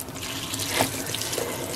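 Cold tap water runs steadily into a sink to rinse a tie-dyed shirt, a close, continuous splashing gush with no speech.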